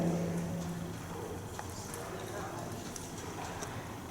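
An excited horse walks toward its trainer in an indoor join-up session, its hooves clip-clopping softly at a moderate distance under a steady ambient background.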